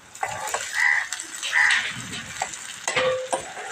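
Chicken frying in a pan with onions and salt gives a steady sizzle, broken by scraping stirs and a few sharp utensil taps against the pan, with faint speech in the background.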